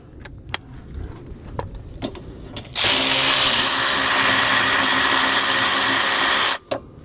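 A power wrench whirs to spin a bolt off a Toyota RAV4 during rear brake work. After a few soft clicks and taps, the tool runs loud and close for about four seconds, then stops abruptly with a short click.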